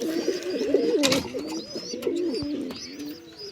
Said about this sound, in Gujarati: આ વ્હાઈટ કબૂતર અહીંયાની ઉપલી પેટીમાં જોડ છે.